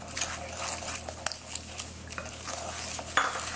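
Beaten eggs and sugar are stirred in a bowl, with quiet, irregular clinks and scrapes of a utensil against the dish and soft wet swishing, close and faint.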